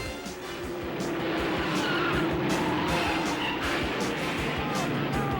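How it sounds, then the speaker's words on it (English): Race cars in the opening-lap pileup at the 1966 Indianapolis 500: a loud, continuous wall of engine roar and skidding tire noise that swells and holds for several seconds. "1966 would be highlighted by another opening lap accident involving nearly half the field."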